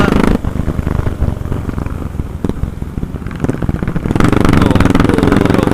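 A Benelli motorcycle engine roars loudly and steadily, a deep rumbling growl that briefly eases then swells again near the end.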